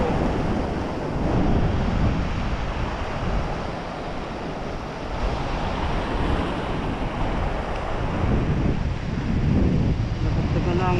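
Large sea waves after a typhoon roar continuously as a broad, rough surf, with wind buffeting the microphone and swelling in strength a few times, while a faint voice may sit underneath.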